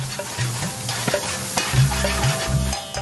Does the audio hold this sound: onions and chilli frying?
yes